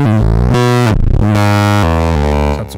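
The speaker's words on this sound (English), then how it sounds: "It's a great distortion sound." Heavily overdriven modular synthesizer tones through tube distortion, gritty and saturated, shift through several loud sustained notes with harsh buzzing harmonics and no talking.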